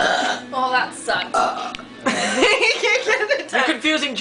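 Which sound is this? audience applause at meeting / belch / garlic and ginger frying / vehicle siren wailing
belch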